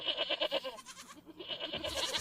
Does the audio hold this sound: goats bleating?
yes